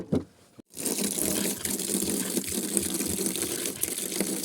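Hot water pours or gushes steadily from a tap into a container, a continuous splashing rush after a brief quiet start.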